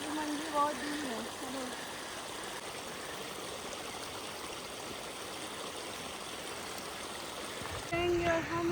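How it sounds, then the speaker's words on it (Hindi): Hot spring water streams and trickles steadily toward a bathing pool near a temple, a constant close wash of flowing water with voices talking over it, briefly louder near the end. "गर्म पानी वाला पूरा यहाँ आ रहा है।"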